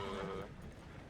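Horse in the video game Red Dead Redemption 2, a short whinny-like neigh that fades out within about half a second, fairly faint.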